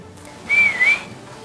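A single short human whistle, a clear tone that dips and rises again, loud and near against a quiet background.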